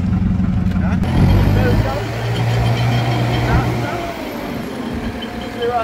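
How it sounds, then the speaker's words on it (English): Heavy Mack trucks and excavators rolling off a newly arrived barge on Carriacou, a loud low diesel engine rumble with a steady drone and mechanical clatter, with voices talking over it. "the vehicles are coming in from Grenada. The barge has just arrived. Excavators, Mack trucks."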